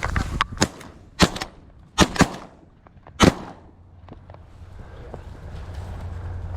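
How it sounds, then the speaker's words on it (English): Several sharp shotgun blasts ring out in quick, irregular succession while goose hunting outdoors, followed by fading echoes and open-field ambience. "I'm shooting these ones. Shoot these ones."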